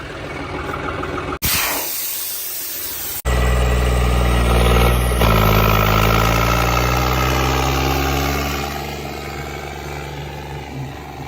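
A John Deere 5210 tractor engine with no exhaust pipe fitted idles close by in a steady, throbbing drone, broken early on by a brief loud hissing burst, then shifting pitch as the engine note settles.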